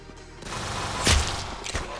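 Gunfire in the Roblox game Arsenal: a few sharp shots in quick succession over a short stretch, one louder crack near the middle and another near the end, with busy game ambience underneath.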